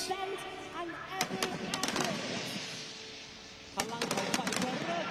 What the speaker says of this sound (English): Sky illuminated by these fireworks.